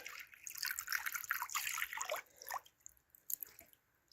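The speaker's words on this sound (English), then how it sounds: "watch what happens when the water pours in" Water from a faucet pours and trickles into a stone rock sink in a cabin, a fairly close splashing stream that comes in bursts, thins out toward the end and leaves a few scattered drips.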